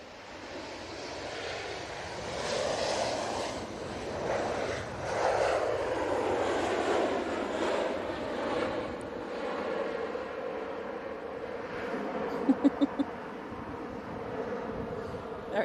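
A jet airliner touching down on the runway at Manchester Airport, a broad engine roar with a rising and falling whine that swells and eases across the clip. A few short clicks come near the end, and no one speaks.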